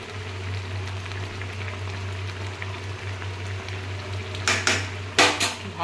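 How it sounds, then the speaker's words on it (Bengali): Fish curry simmering in a pot, a steady low bubbling hum throughout, with a few sharp clatters of a lid or utensil against the pot near the end. "বন্ধুরা, তরকারিটা আমার ফুটে গেছে।"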